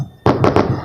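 New Year fireworks bursting nearby in a loud burst of three rapid cracking booms after a brief quieter moment.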